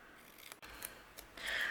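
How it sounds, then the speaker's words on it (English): Scissors snip around the edge of a paper sticker, trimming away the white border in a fussy cut; short crisp blade rubs and snips come close up, ending in a louder sustained cutting stroke, with no talking. "I'm going to take my scissors and fussy cut around the sticker"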